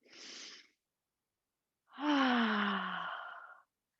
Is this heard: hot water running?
no